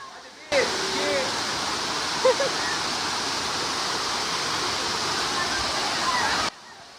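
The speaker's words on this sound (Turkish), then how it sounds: "Şelalenin görüntüsü bu şekilde." A steady, dense roar of a waterfall in Kaş, Turkey fills the scene, loud and constant, with a couple of faint brief sounds riding over it.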